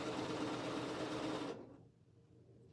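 A sewing machine runs steadily, stitching two layered pieces of fabric together in a home sewing room, its close, continuous whir holding for about a second and a half before cutting off into quiet.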